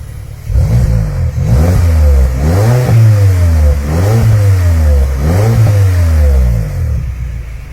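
A BMW car engine revs up and down repeatedly in close, loud sweeps, each rise followed by a drop back toward idle, the car burning oil and smoking after idling.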